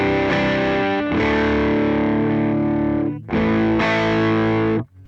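An electric guitar played through a Scream 808 overdrive on a Line6 HX Stomp rings out with loud, crunchy distorted chords, two sustained strums with a brief gap between them, and no talking.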